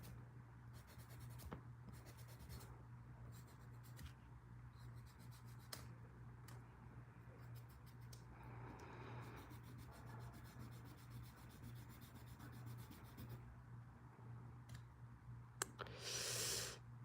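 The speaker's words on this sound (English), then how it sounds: "just a bit more sanding" Small electric sander smoothing a plastic gunpla model part, giving a steady, quiet scratchy rubbing that runs through most of the stretch under a constant low hum, with a few brief clicks.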